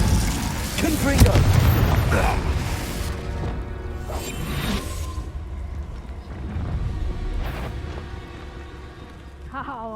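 The Confringo explosive spell in Hogwarts Legacy goes off with a heavy booming blast and crash. A rumbling, whooshing tail follows, with smaller bursts recurring across the ten seconds amid game noise.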